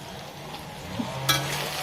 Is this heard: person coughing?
no